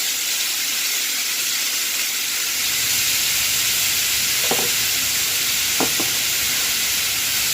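Thinly sliced steak cooking in a pan, a loud, steady broadband sizzle and hiss that holds throughout, with a couple of brief scraping stirs near the end.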